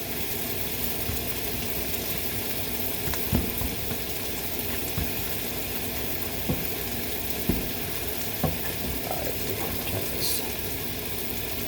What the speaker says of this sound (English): it's the fucking egg I got in the goddamn stove that's burning right now